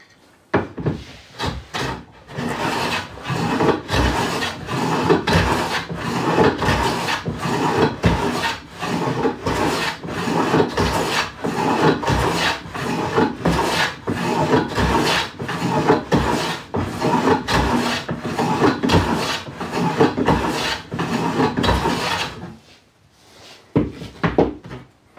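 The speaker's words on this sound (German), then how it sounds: "das mache ich jetzt hier auch wieder mit dem Hobel" Hand plane shaving an oak board for a live-edge roll holder, with steady rhythmic rasping strokes repeated closely for over twenty seconds, close and fairly loud, then a brief quiet at the end.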